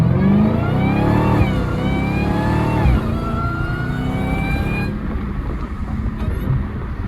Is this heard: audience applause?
no